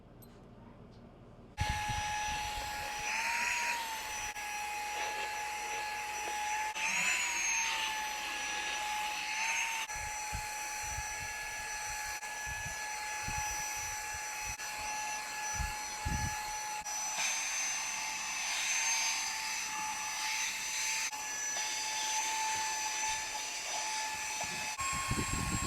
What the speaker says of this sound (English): So we'll go ahead and start off our test with some vacuuming.